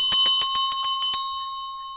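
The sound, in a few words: fire engine bell ringing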